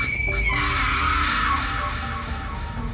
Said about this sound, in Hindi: तभी सामने से चीखने चिल्लाने की आवाज आने लगती है।